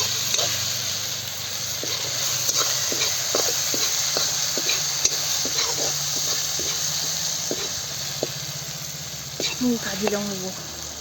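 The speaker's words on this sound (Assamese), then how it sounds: "বাকী আদা নহৰু দিলোঁ, অকণমান ফ্ৰাই কৰি আছোঁ" Ginger and garlic fry with red chilli in a hot pan, giving a steady close hiss and sizzle broken by light, rhythmic scraping taps of a stirring spoon.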